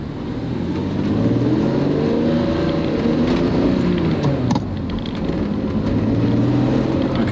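A BMW E46 M3 pulls away in first gear, its engine revving up in rising, sweeping tones and then settling, loud and close with no talking.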